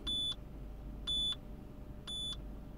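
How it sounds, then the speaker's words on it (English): Three identical short electronic beeps from a diagnostic tool connected to a 2005 Citroën C4 1.6 petrol repeat at a steady one-second interval over a low background hum. "we have a beep"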